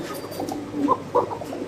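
A Bombay pigeon coos in a few soft, low notes, close by, with a faint background hum and no speech.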